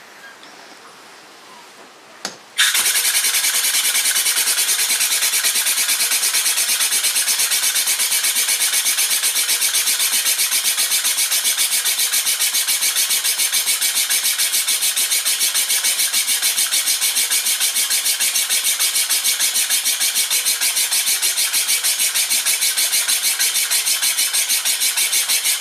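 A small compressed-air piston engine fed from a compressor tank starts after a sharp click and spins up into a loud, steady, high-pitched rapid chatter that holds for over twenty seconds.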